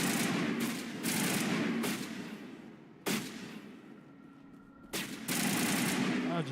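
Gunfire in the Mass Effect Legendary Edition shooter: repeated bursts of rapid automatic fire, loud and close, broken by short pauses, with sharp new volleys starting near three and five seconds.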